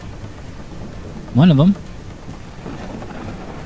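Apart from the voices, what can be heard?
thunderstorm with rain in the video game Ranch Sim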